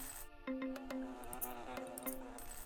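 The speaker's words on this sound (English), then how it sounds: "Bees!" Bees buzzing in the video game Voodoo Garden, a soft steady insect drone with brief tonal blips and chimes over it, quiet and close, no talk.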